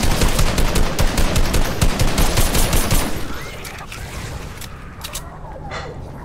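A minigun in Fortnite fires a loud, continuous rapid burst for about three seconds, then cuts off, leaving quieter game sounds behind.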